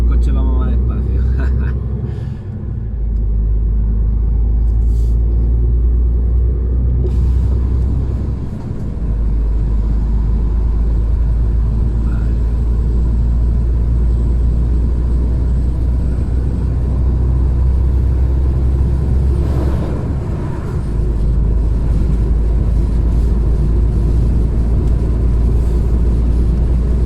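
A car driving on a road near Granada heading toward Madrid, heard from inside as a loud, steady low rumble of engine and road noise with a few brief dips, while someone talks over it.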